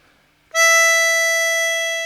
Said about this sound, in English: This is the E on hole 6.